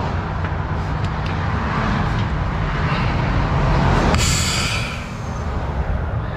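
Compressed air hisses through the red suzie line into a 40-tonne lorry's trailer during motorway heavy recovery. A steady, loud rush of air and engine noise swells into a sharper hiss near the end.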